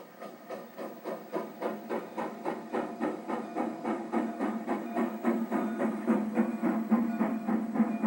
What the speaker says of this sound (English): Here we see the train as it prepares to stop at Moscow, Pennsylvania.